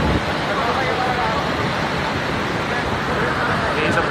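Rushing glacial river water at Gomukh, a loud, dense, continuous roar of turbulent flow heard up close, with a faint voice partly buried beneath it.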